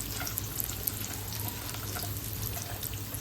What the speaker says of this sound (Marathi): आता त्याच्यात आपण टाकूया उभा उभा चिरलेला कांदा कांदा आपल्याला छान लालसर भाजून घ्यायचा आहे